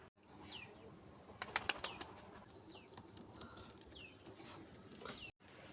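Pigeons flapping their wings close by, a sharp cluster of rapid wingbeats in the middle over a soft background, with faint flutters and small calls around it.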